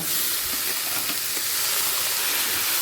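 Banana flower tossed into a pan of frying spice masala gives a steady, close sizzle with dense hissing and a few soft stirring scrapes, no voices.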